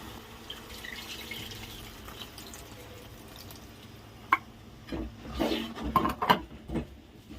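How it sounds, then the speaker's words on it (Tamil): Water runs and splashes into a metal pot of fish curry, quiet at first, then louder pouring with a few clinks near the end. "அப்ப நமக்கு தேவையான அளவு தண்ணி ஊற்றிக்கலாம்"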